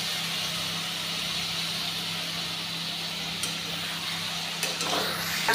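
Ground tomato and green chili paste sizzles in a hot pan while being stir-fried for a Bengali plantain curry, a steady close hiss with a few faint clinks near the end.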